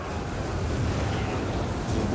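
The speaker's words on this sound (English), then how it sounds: "There's that rocket artillery." Rocket artillery streaking overhead during a medieval Mongol river-crossing battle in the Total War game, a steady loud rushing whoosh that fills the whole stretch without letup.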